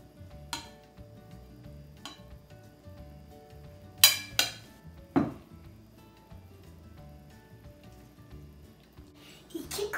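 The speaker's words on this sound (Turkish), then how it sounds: "Benim kocaman kaşıkla her şeyi karıştırıyoruz." A big spoon stirs Russian salad in a bowl, giving scattered clinks and scrapes with a few sharper knocks against the dish, heard close with quiet gaps between strokes.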